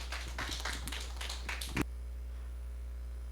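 A small audience at a morning group meeting gives a short burst of scattered clapping to welcome a speaker. It stops abruptly after about two seconds and leaves quiet room hum.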